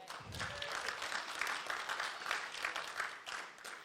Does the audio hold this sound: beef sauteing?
no